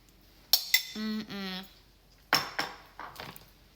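A spoon clinks and scrapes against a bowl while honey is stirred into yogurt, a few sharp close taps separated by short smooth stirring strokes, fairly quiet and heard alone.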